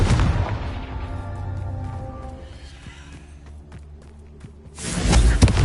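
A Confringo blasting spell in Hogwarts Legacy lands with a loud booming burst, followed by a rumbling, fading tail, then another heavy blast erupts near the end.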